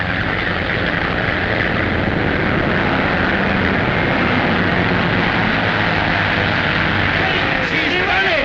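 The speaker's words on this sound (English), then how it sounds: "By Jove, but that plane is handling well." A propeller-driven airplane drones steadily overhead in flight, a loud continuous engine roar filling the scene throughout, with voices talking underneath at an air race or army aircraft trial.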